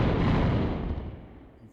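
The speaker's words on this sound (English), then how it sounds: "At least killing them results in a satisfying explosion." A single loud, deep blast as an enemy blows up in the Tomb Raider video game, a booming burst with a rumbling tail that fades away over about a second and a half.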